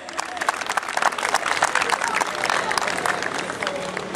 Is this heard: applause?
yes